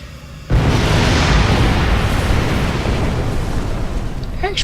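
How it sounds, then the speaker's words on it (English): A sudden loud video game explosion in Star Trek Online bursts in and rolls into a long, heavy rumble that slowly fades, with a few faint high pings near the end. "Explosions!"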